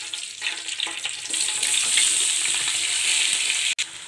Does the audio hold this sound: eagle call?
no